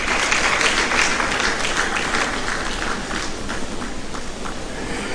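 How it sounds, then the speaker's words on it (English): Audience at an economic summit applauding a former police affairs minister, a full, dense burst of clapping that stays strong and steady, easing slightly in the later seconds. "Please, let's give him a round of applause."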